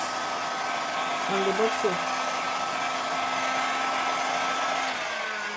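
A heat blower runs with a steady, loud whooshing hiss while shrinking plastic nylon wrap to fit around a packaging bottle. Someone speaks briefly over the constant airflow.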